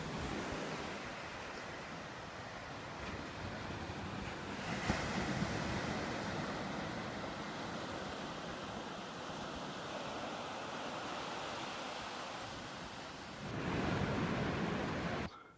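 Ocean surf washing onto a California beach, a steady broad roar of breaking waves with a louder surge near the end, no voices.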